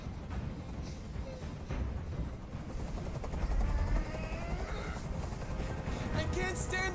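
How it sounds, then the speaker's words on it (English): Helicopter hovering in the video game Detroit: Become Human, a loud, steady rotor rumble that fills the whole stretch with dense low-frequency noise and a few fainter scattered sounds on top. "I can't stand that noise anymore. Tell that helicopter to get out of here."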